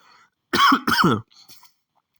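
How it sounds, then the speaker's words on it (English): Two sharp, close coughs in quick succession, followed by a couple of softer breathy sounds and silence. "Sorry about that. I got coughing."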